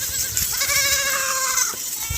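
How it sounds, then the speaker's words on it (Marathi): A goat loose in a crop field gives one clear, drawn-out bleat of about a second, close and distinct over steady outdoor ambience. "आता शेळ्या घुसलेल्या आहे"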